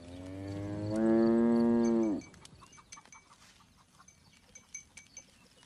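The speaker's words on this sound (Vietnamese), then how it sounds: "Con bò này sao lại thích anh thế?" A bull lets out a single long, loud, close moo lasting about two seconds, followed by quieter rustling and scattered background noise.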